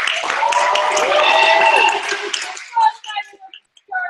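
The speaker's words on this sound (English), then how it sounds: "So clap it up for yourself." A workshop audience at a wellness session applauds themselves: dense, loud clapping with whoops and voices that fades out after about two and a half seconds, leaving scattered talk.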